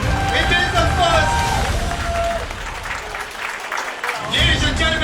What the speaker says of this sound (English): can we have a bigger round of applause for that?